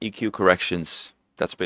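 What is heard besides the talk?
No everyday noises stand out.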